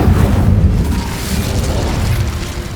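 Incendio fire spell cast in Hogwarts Legacy, a loud, sustained booming whoosh of flame that rumbles steadily for a few seconds with no pause.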